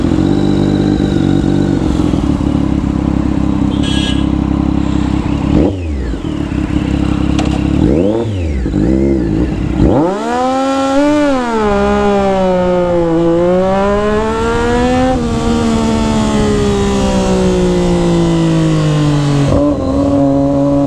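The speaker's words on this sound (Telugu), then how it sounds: "ఇప్పుడు Daytona 675 కూడా ఒక రౌండ్ వేసి వస్తాను." Triumph Daytona 675 sport motorcycle revving loudly up close, engine pitch rising and falling through several throttle blips before pulling away with a sustained high, climbing whine through the gears.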